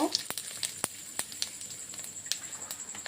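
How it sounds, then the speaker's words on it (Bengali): Spices and garlic frying in hot oil for an egg curry: cardamom, bay leaf and panch phoron crackle in a steady close sizzle, with sharp pops and spits scattered throughout. "ভালো করে অল্প ভেজে নিতে লাগবে।"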